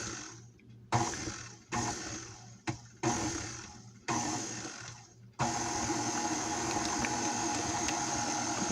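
Electric mixer beating cheesecake batter for a German chocolate cheesecake, starting with short whirring bursts that stop and start, then running steadily at a louder, even hum with no talking.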